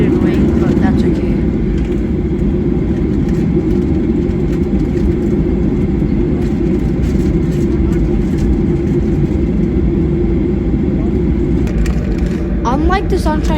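Virgin Australia 737-800 taxiing, heard from inside the cabin as a loud, steady engine drone and rumble with a faint clatter near the end.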